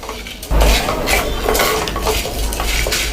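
Spices for a pepper kara kuzhambu fry in a pan on a low flame. A close, busy scrape and clatter of a spoon against the pan sits over a light sizzle, with sharp metallic knocks at irregular moments.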